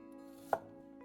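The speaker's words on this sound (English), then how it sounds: "We'll also need 1 yellow onion, just going with a medium chop" A single sharp knife chop through a medium yellow onion lands mid-clip, close and distinct, over a steady low hum with no voices.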